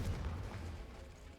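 Confringo blasting spell cast in Hogwarts Legacy, a faint, low rumbling boom that swells briefly and then fades into a dull roar.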